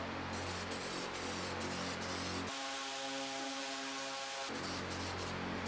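A spray can painting an Audi B8 S4 brake caliper from a distance, a steady close hiss that runs almost without a break, with a short pause midway where a softer hum is left.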